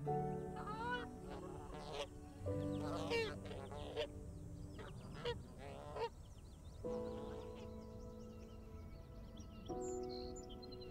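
Several geese honk in loud, overlapping bursts, with repeated nasal calls and harmonic cries layered over a busy background of buzzing insects and rustling noise.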